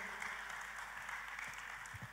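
Soft, continuous applause comes from a congregation at a church worship service. It is fairly faint and even, with scattered individual claps and no talking.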